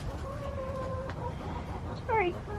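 Hens cluck and make short squawks nearby in a chicken coop, with a sharper falling call near the end, over steady background noise.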